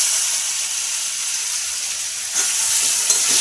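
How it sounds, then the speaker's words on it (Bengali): Potato pieces rubbed with salt and turmeric fry in oil tempered with panch phoron, giving a steady close broadband sizzle throughout with a few faint stirring clicks near the end. "আলুটা আমি খুব ভালো করে ভেজে নেব।"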